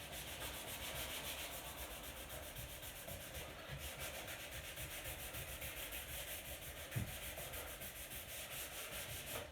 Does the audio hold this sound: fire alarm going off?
no